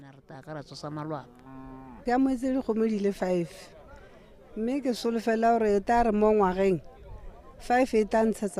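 Cattle mooing close by, several long drawn-out lowing calls following one another with short pauses between them, fairly loud and clear.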